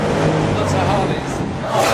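Harley-Davidson motorcycles rumble and rev at a dealership in Beirut, a loud continuous engine roar close by, with voices mixed in.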